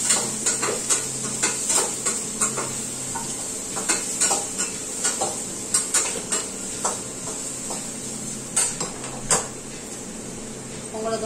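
Onions being stirred in a pan while they fry: a steady sizzle runs underneath and a spoon scrapes and clinks against the pan again and again. Soft talk comes in now and then.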